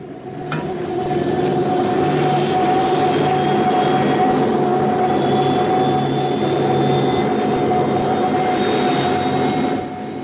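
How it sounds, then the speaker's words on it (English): Roar of jet bombers passing high overhead, a loud continuous droning rumble with steady tonal whine, swelling in quickly and holding before easing off at the end, heard alone. "You are listening to one of several jet bombers miles in the air. You hear the roar after the bombers have passed over your head."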